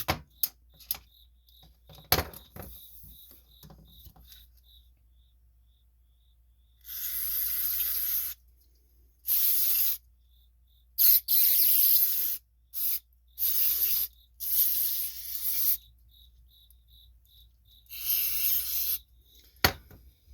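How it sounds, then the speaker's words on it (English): Repeated hissing bursts of aerosol cleaner sprayed into a Cub Cadet riding lawn mower carburetor, some short and some lasting a second or two, close by with quiet gaps between. "Just want to make sure you spray them in there good."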